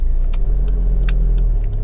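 Honda Civic 2.2 i-CTDi EX diesel five-door car running on the road, a steady low engine drone with road rumble and brief faint higher clicks or squeaks over it, heard close from inside the vehicle with no talking.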